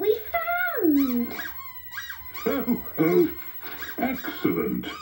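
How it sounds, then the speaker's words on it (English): A squeaky rubber duck toy squeaks in a series of short, high, wavering chirps, close and fairly loud, mixed with a voice talking in between. "The rubber duck. That makes a squeaky noise."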